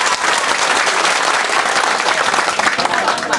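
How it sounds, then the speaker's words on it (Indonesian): Audience at a donation and rice-giving event in Borobudur village, Indonesia, breaks into steady, dense applause, many hands clapping close and loud throughout with no pauses. "tepuk tangan."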